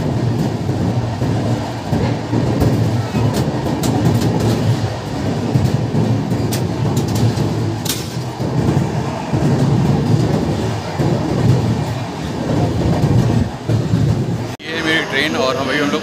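The Barauni Ahmedabad Express 19484 rumbles along the tracks near Itarsi with a steady loud roar and rattling carriage noise from inside the moving train, ending in a sudden change of sound.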